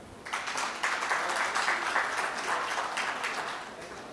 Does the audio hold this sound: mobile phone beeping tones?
no